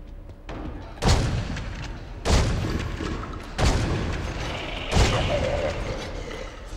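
Four heavy, booming gunshots spaced about a second apart, each with a short echoing tail, in the video game Ties That Bind.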